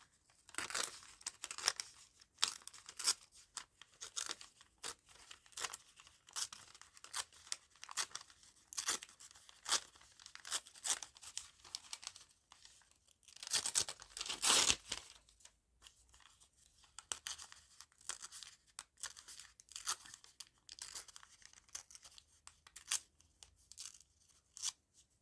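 Paper being torn by hand for a collage, a long run of short ripping and crinkling bursts at close range, with one louder, longer tear partway through and no talk.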